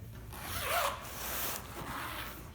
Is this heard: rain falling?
no